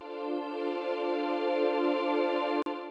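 A sustained, bright pad chord from Ableton's stock Wavetable synth in shimmer unison mode holds steadily with a slightly wavering, shimmering texture, ending with a brief click near the close.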